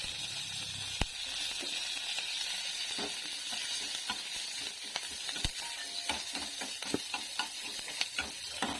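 Cumin, curry leaves and green chilies fry in hot oil as part of a desi fish curry, making a continuous soft sizzle punctuated by sharp spoon taps and stirring clicks, close up, with no talking.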